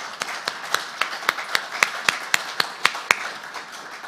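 Clapping at the closing ceremony of a technical conference, heard as a clear, evenly spaced run of about a dozen sharp claps over a faint background hum, with no speech.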